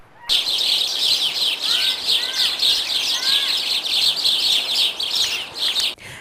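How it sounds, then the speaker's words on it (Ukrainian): Many sparrows chirp noisily and continuously nearby, a dense overlapping chatter of bright tweets. "Галасливі гороб'ячі ораторії за вікном сповіщають городян про те, що весна вже прийшла."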